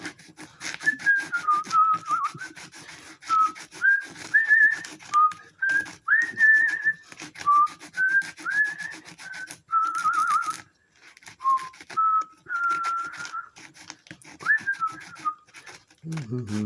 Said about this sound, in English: Always whistle while you work.